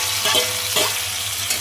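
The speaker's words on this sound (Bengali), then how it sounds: "এটা ভাজা হচ্ছে, আর ততক্ষণ আমি এদিকটায় ডিমটা ভেজে নেব" Food frying and sizzling in a pan while an egg is cooked alongside for a dal makhani meal, a steady close sizzle with a few brief stirring scrapes and no talking.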